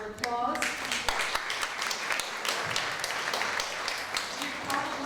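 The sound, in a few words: audience applause for Ferrari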